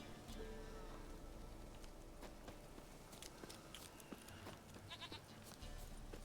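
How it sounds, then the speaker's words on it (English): Goat bleating in The Witcher 3 game, faint and intermittent over soft ambient game sound and scattered clicks. "Come on, you bloody goat."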